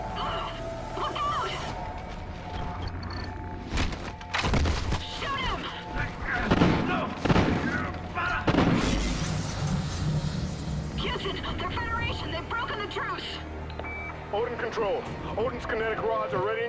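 Call of Duty Ghosts combat: a steady clatter of gunfire broken by heavy thuds and booming explosions, loudest in the middle stretch, with voices calling out over the battle throughout.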